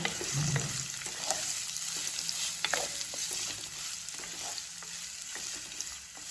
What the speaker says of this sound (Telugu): ఈ ఆనియన్స్ చక్కగా గోల్డెన్ బ్రౌన్ కలర్ వచ్చేంత వరకు ఆయిల్లో వేయించుకుందాం